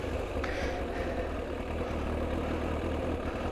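A Kawasaki ZX-9R sport motorcycle engine idles steadily and close by, a low continuous rumble with a constant, even tone throughout.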